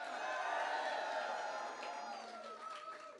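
A large crowd cheers and claps for Hogan at his Maryland Republican primary victory for US Senate, a steady, fairly distant roar that tapers off slightly toward the end.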